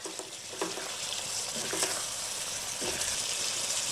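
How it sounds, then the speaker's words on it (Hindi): Mutton karahi frying in butter on high heat, a steady hiss of sizzling with a few sharp clinks of stirring, continuous and fairly close, no talking. "तेज आंच पे भूनना है इसको।"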